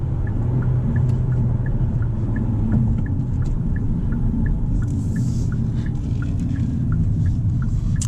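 Engine of a Hyundai Elantra N with a 6-speed manual gearbox droning low and steady from inside the cabin after a downshift, with a faint rhythmic ticking over the constant road rumble and no voices.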